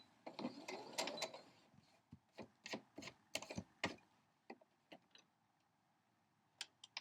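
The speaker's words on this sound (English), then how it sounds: "Now sew directly on that line" A quilting sewing machine stitches a straight seam along a drawn corner-to-corner line on a half-square triangle block, heard as a quiet series of short mechanical bursts with brief pauses between them.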